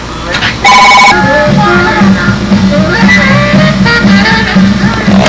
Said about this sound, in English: the phone never stops ringing here